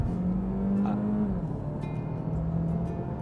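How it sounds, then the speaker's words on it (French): Opel Astra PHEV plug-in hybrid pulling away hard past a motorway toll barrier, its engine note rising steadily then settling into a sustained drone, heard from inside the car with no talking. "lorsqu'on va chercher un petit peu de dynamisme, tout de suite, cette Astra se fait entendre"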